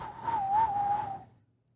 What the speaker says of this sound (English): Hey, I can whistle.